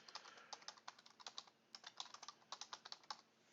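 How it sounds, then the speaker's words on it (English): Someone types on a computer keyboard, a quiet, close run of uneven light key clicks in quick bursts with short pauses between, no voices. "you can actually start typing if you wanted to"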